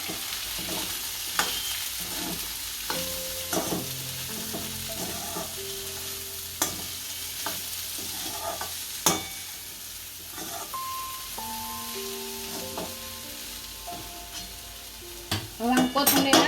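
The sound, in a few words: stirring peanuts frying in a pan for khichdi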